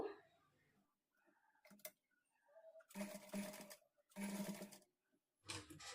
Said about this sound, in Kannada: ಈ ಪೈಪಿಂಗ್ ಕ್ಲಾತ್ನ ಎಡ್ಜು ಲೈನಿಂಗ್ನ ಎಡ್ಜು ಈಕ್ವಲ್ ಆಗಿ ಇಟ್ಕೊಂಡು ಸ್ಟಿಚ್ ಮಾಡಿಕೊಳ್ಬೇಕು